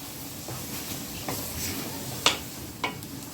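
Mashed banana flower hits a pan of cooked-down spice paste for a Bengali mocha dish, sizzling softly under a few scraping stirs and light clinks of the utensil.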